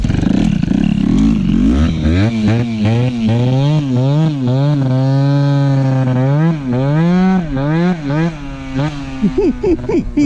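A Peugeot 103 moped's small two-stroke engine with a Malossi MHR 70cc kit revs hard and loud, pitch climbing and falling in repeated surges, held high near full throttle before sputtering down.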